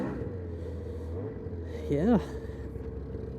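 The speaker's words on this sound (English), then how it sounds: "See, this is idling around. It's idling a little rough." A Ski-Doo 600 E-TEC snowmobile engine idles a little rough, a steady low rumble running through the whole stretch, with a brief louder rising tone near the middle and a person speaking over it.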